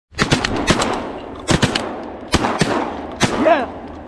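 Shotguns fired at a flock of pintail ducks during a hunt, four sharp, loud blasts spaced about a second apart, with echoes trailing after each.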